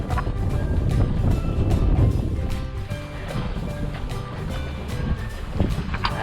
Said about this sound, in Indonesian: Berhubung anginnya mulai datang, saatnya kita pulang.